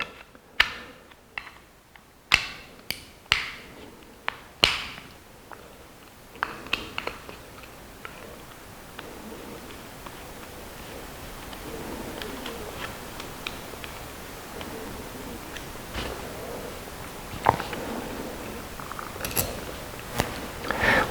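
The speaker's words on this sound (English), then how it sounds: "Next, we need to loosen the screw on the lock ring behind the front ring." Small screw on the lock ring of a Short Malcolm rifle telescope being loosened, giving close, quiet metallic clicks and ticks in scattered bursts, sharper at first and then softer, with a faint creak now and then. No talking.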